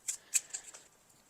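Tarot cards being shuffled by hand, a few faint, quick papery snaps and riffles spaced unevenly over a second, fading into quiet room tone.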